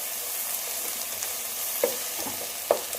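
Okra frying in a little oil in a pan, with a steady low sizzle throughout and a few brief clinks of stirring near the end.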